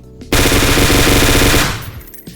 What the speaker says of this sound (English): this gun shoots like really fast, but it doesn't like hit the person usually, because the recoil is really big